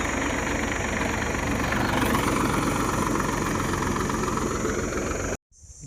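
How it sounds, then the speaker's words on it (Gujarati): A tractor engine runs on a farm field, a loud, steady close-up rumble with a knocking throb that cuts off abruptly near the end. "જો ગાઈસ મારા ભાઈ ટ્રેક્ટર ચલાવે છે ના।"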